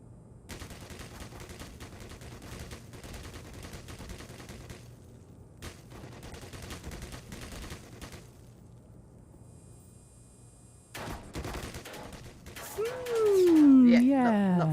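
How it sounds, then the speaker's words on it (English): Automated turret fire in the video game Black Mesa, heard as bursts of rapid gunfire at steady loudness through most of the stretch, a pause, then renewed shots and a rising game effect, with a player talking over it. "Oh God! I remember that turret."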